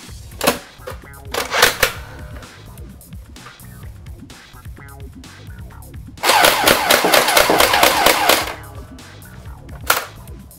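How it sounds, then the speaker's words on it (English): Nerf AA12 shell-ejecting blaster firing 50 cal balls on full auto; a few quick rattling shots early, then a dense, steady clattering burst of about two seconds and one last snap, close, with background sound underneath. "It's a fully automatic shell ejecting AA12 that comes with both a stick mag and a drum mag."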